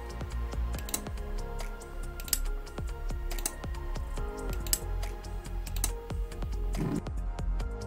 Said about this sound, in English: When I click on the light toggle button, there is a clicking sound coming from the relay.